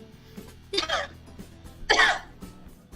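Two sharp, noisy coughs spaced about a second apart, close by, with faint background murmur between them.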